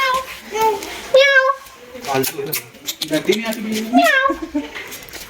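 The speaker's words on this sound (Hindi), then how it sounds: "यहाँ की बिल्लियाँ डरती नहीं है।" A cat meows several times close by on hotel grounds in Nubra Valley, Ladakh, with a person talking over and between the meows.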